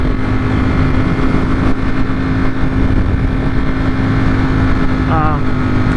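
A motorcycle fitted with CNC Racing lever guards and bar-end mirrors cruises along a road, its engine a loud, steady drone mixed with rushing wind that holds almost unchanged throughout, with a brief rising whine near the end.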